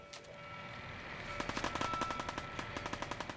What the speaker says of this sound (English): High pistol shot.